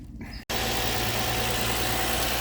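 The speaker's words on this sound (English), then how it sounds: "I'm gonna start this back up" An Infiniti M35's engine cranks and catches after spark plugs and ignition coils are replaced, then settles into a steady, loud, close idle with a smooth mechanical hum.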